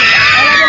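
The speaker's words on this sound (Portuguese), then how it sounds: "Dá um gritão aqui, dá um grito mais alto, ganha." A crowd at an amusement park lets out one loud, brief burst of shouting and cheering, close by and filling the moment.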